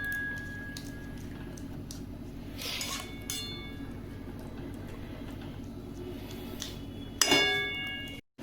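A lid is set over a pot of carrot halwa cooking in milk, giving one sharp metallic clink near the end after a long stretch of quiet kitchen hum and faint clatter.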